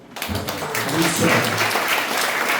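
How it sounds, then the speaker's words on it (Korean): Church congregation applauding during a children's department worship service, a steady mass of clapping that swells after a brief start and holds loud and close, with talk mixed in underneath. "우리 미리 박수 한번 하시죠"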